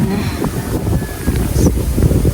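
Strong wind buffets the microphone outdoors in Zambales, Philippines, in a continuous, loud rumbling roar with gusty swells.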